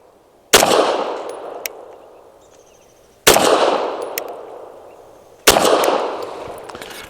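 A Tisas 1911 Duty B9R pistol fires three Hornady Critical Duty 135 grain rounds outdoors. Each is a sharp, loud crack spaced a few seconds apart, and a long ringing echo decays after every shot.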